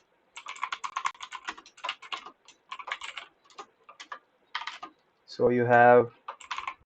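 Bursts of quick, light clicks from typing on a computer keyboard come in uneven runs and pauses, close and fairly quiet, with a brief spoken phrase near the end.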